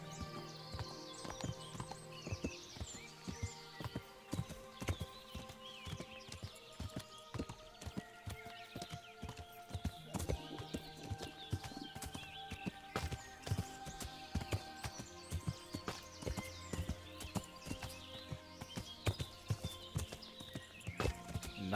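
A horse's hooves clop steadily and close as it is ridden through woodland in the video game Kingdom Come: Deliverance, with a whinny and game ambience in the background.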